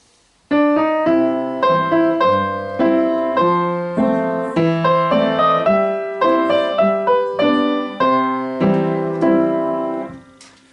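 Solo piano plays ragtime in even square notes, a steady, evenly spaced pattern of chords and bass notes, clear and fairly loud, with a stiff, unswung rhythm.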